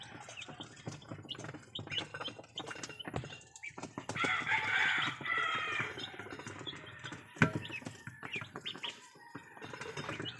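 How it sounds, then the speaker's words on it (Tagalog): High, busy chirping of young chicks fills the scene, with a denser burst in the middle and occasional sharp knocks and rustles nearby. "Ito naman yung ating mga sisiw ng manok."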